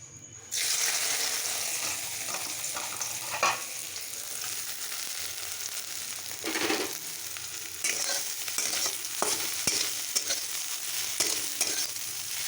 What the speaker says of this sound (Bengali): সোয়াবিনগুলোকে আমি লাল করে ভেজে নিয়েছি